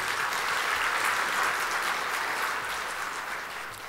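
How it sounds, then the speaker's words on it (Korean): A church congregation applauding at a Sunday evening worship service, heard as sustained, even clapping from a large group that fades slightly toward the end. "박수 한번 주십시오."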